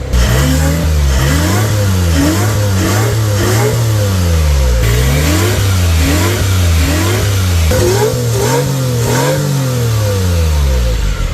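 A supercharged mini-truck engine revs up and down repeatedly, loud and close, with rising and falling engine pitch throughout and no talk over it.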